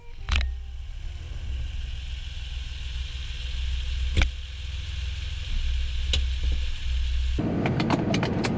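Steady low engine rumble from a high-mileage Acura NSX with about 320,000 miles, heard from inside during a diagnostic test drive, with a few sharp clicks and a brighter, busier burst of noise near the end.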